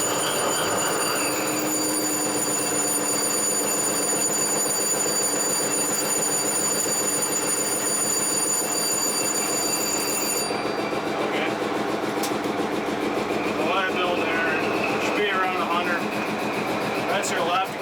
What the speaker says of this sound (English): Hold them until the engine starts, until the bell stops